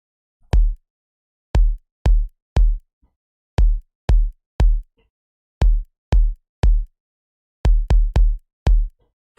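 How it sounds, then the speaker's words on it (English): Punchy, deep afro-house kick drum hits alone, landing in an uneven pattern of single and doubled thumps with silence between them. "So there's a kick that sounds like this."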